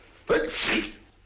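One sharp sneeze, close and loud, bursts out after a brief quiet lead-in and trails off quickly, heard alone.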